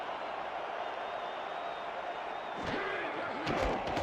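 A home crowd roars at a Florida football game, a steady mass of noise with sharp slams, claps and cheers rising toward the end.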